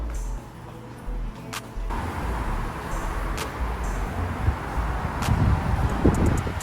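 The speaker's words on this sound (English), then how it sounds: "This is so windy today" Blustery wind on a balcony in Mexico buffets the microphone in low rumbling gusts, growing stronger toward the end, with a few faint clicks.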